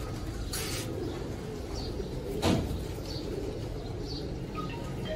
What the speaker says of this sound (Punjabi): ਬਹੁਤ ਹੀ ਆਲਾ ਕਬੂਤਰ ਹੈ ਜੀ।